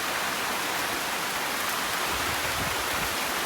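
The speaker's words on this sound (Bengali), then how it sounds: "বাবা বিশাল বৃষ্টি হচ্ছে বিশাল বৃষ্টি" Heavy rain pours down in a steady, dense hiss without pause, loud and close, with no voices over it.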